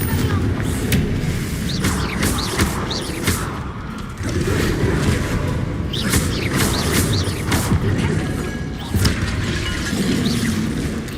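Fiery Confringo spell blasts from the Hogwarts Legacy video game, dense layered booms and crackling bursts repeating over busy combat effects with continuous game music underneath.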